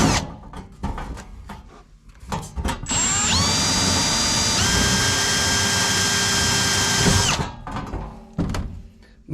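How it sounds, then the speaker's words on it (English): A 1/8 inch bit drilling into the floor pan of a 1961 Cadillac: a few knocks and handling clatter, then a sustained high, whining power drill run for about four seconds, pitch dropping as it bites, followed by more clunks. "So we'll get our little 1/8 inch drill bit here"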